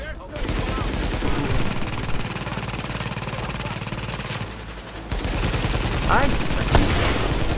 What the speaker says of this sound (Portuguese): O cara destruiu minha torreta com 5 tiros.